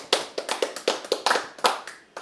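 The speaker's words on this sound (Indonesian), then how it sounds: "Tepuk tangan dong kepada Tuhan Yesus" A church congregation clapping during a sermon, heard as a short burst of about a dozen sharp, fairly close claps in a quick, slightly uneven rhythm, with no talking.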